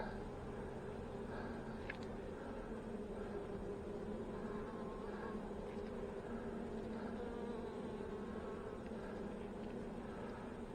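Honey bees buzz continuously in an open hive during an inspection, a dense, steady droning hum close to the listener with no talk.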